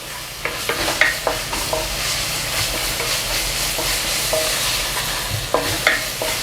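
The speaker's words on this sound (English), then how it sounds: "And now I have to add all the oils. And I'm cooking gochugaru." Gochugaru chili flakes fry in oil for Korean-style mapo tofu, a dense close sizzle with repeated scraping and clicking of a utensil against the pan as it is stirred.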